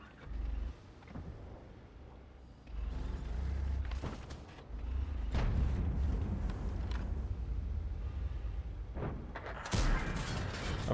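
STRV 103B tank gun firing in a tank video game, with a few deep booming shots spread over the stretch amid a low engine rumble and faint background noise, no talking.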